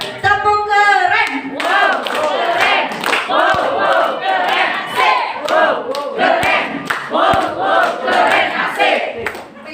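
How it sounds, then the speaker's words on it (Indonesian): An indoor audience chants and shouts in rhythmic bursts with sharp claps punctuating the crowd noise, loud and close, voices dominating over the clapping. "Aplaus dulu dong buat kita semua."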